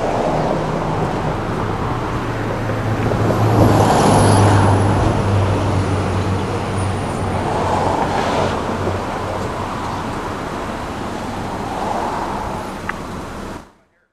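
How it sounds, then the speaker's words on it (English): A 2016 Honda Civic LX on a test drive produces a steady cabin rumble of engine and road noise, with a swell of passing traffic midway, before cutting off abruptly at the end. "we are test driving the 2016 Honda Civic LX"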